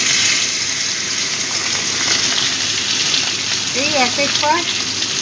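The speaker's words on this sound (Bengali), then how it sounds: "এবার আমি চিংড়ি মাছটা আগে ভেজে নেব।" Prawns fry in hot oil with a steady close sizzle and crackle throughout, while a voice speaks briefly near the end.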